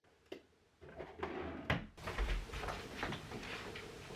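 A bedside drawer slid shut after a book is tucked inside, a soft close wooden knock followed by faint rustling and shuffling nearby in a quiet room.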